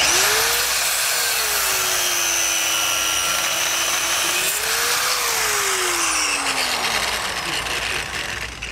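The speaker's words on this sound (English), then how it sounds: "We're just going to use a cutoff wheel here to trim off some of the excess." A cutoff wheel trims excess bolt ends while fitting Roadmaster Comfort Ride suspension to a 2020 Grand Design Momentum fifth-wheel trailer, a loud, close high-pitched grinding whine that dips and rises in pitch as it bites, steady for about eight seconds.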